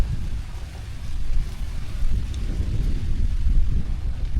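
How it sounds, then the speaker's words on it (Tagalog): Steady wind roars and buffets the microphone with low rumbling gusts at a campsite on Calaguas Island, Philippines, continuous throughout with no voices. "Biglang nagbago yung hangin eh."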